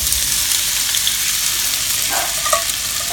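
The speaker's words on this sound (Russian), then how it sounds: "мы будем жарить картошку" Steady broadband sizzling of potatoes frying in a pan, continuous and fairly loud, with a few brief clinks or stirring sounds toward the end.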